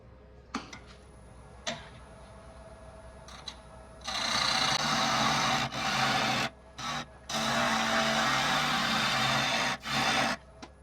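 A wood lathe turning a closed form with aggressive cuts: a few light taps, then loud bursts of the gouge cutting into spinning wood over a steady machine hum, starting and stopping in several runs.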